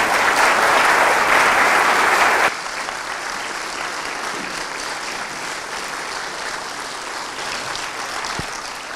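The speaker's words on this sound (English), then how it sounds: "Another round of applause." Audience applause at a West Point Glee Club concert: a loud, full burst of clapping that drops to a steadier, softer ovation continuing to the end.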